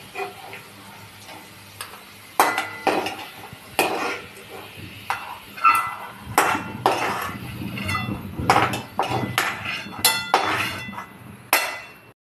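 Metal spatula scraping and clinking against a pan while lifting out fried potatoes for aloo poha over a low gas flame, irregular close sharp knocks and scrapes spread through the stretch.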